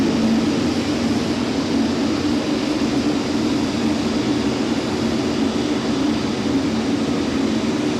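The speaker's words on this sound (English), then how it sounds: "Runway 28 has a Swiss A380 rolling now" Swiss Airbus A380 rolling down runway 28 at Zurich Airport, a steady, heavy jet-engine roar with a low droning hum, loud and unbroken throughout, no voices.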